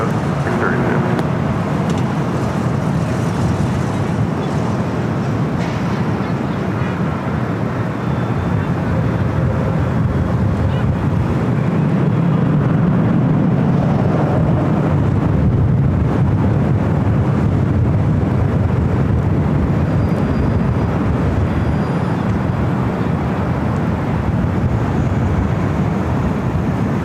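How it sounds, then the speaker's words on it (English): An Embraer E-Jet airliner rolls down runway 24 left at Los Angeles International Airport for takeoff, a loud, continuous jet engine roar that fills the whole stretch with broadband rumble. "Another E-Jet rolling down to 24 left."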